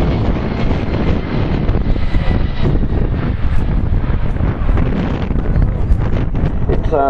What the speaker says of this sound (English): A long-range strategic heavy-lift transport aircraft.